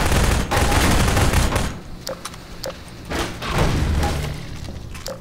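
Heavy gunfire in the shooter Half-Life 2: a sustained fusillade for under two seconds, then scattered sharp shots and booms, loud and close, with no talking.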